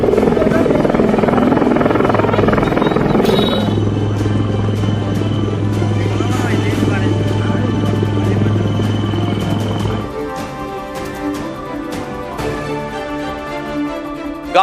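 A helicopter's rotor chops loudly and continuously with a heavy engine whine, close and steady throughout.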